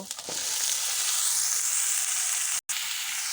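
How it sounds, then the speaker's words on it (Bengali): Cauliflower pieces frying in a pan over medium heat, a steady loud sizzle with a few stirring touches early on and a brief dropout near the end. "কপিগুলো 3 মিনিট মতো কষে নিলে হবে"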